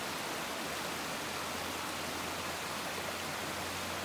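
Flowing brook beside an Appalachian Trail route in Connecticut, a steady broadband rush of water that stays even and unbroken from start to finish, moderately quiet, with no voices.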